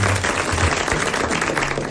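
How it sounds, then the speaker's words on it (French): Studio audience applauding on a 1980 French TV game show, a brief continuous burst of clapping at even loudness, with faint low murmuring underneath. "Eh bien, nous allons applaudir Monsieur Chevreau de Pau."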